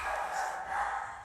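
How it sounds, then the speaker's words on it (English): Dogs barking indoors during a home lower-body workout, a muffled, somewhat distant run of barks that swells twice, heard alone without talk. "Dogs are going mad."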